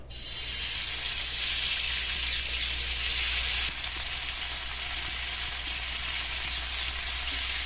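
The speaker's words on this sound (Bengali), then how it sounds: "বাকিগুলো দিয়ে একইভাবে ভেজে নেব।" Chicken kathi kebabs fry in white oil in a pan with a steady, close, dense sizzle that is loudest at first, then eases slightly and carries on evenly.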